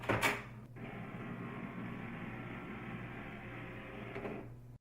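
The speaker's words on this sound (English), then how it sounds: "Wait about 10 minutes for your printer to stop making noises before you proceed." An HP DeskJet printer whirs steadily after a reset, a sustained mechanical hum running for several seconds, with a brief clunk at the start and a small knock near the end.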